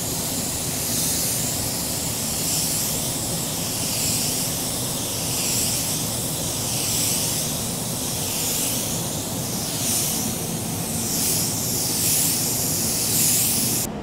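Spray gun laying down a light second coat of paint: a steady broadband hiss that swells and eases in repeated passes, close and continuous, with no talking.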